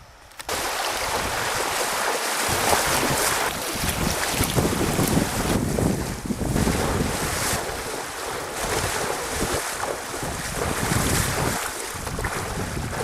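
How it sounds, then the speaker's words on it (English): A canoe is waded upstream through a swift on an Algonquin river, with a steady, loud rush of fast water and gusty wind buffeting close by throughout. "we just finished wading up from Smith Lake through this swift"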